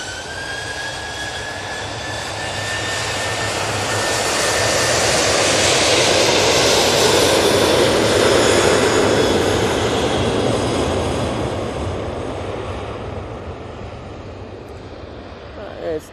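A Ryanair Boeing 737-800 bound for Palma de Mallorca thunders down the runway at Manchester Airport, its jet roar swelling steadily over several seconds, holding strong, then easing slightly as it pulls away. A faint whine rides over the rumble.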